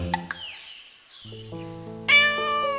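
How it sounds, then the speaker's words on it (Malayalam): A cartoon cat meows, with a couple of short taps and a falling tone first, then a drawn-out, tuneful meow over a sustained musical backing. "ദേ ഒരു പൂച്ച വരുന്നു."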